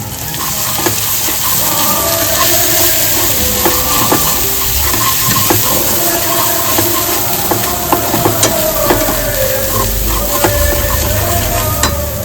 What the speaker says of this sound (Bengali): আবার আমি ভালো করে সবকটাকে মিক্স করে নেব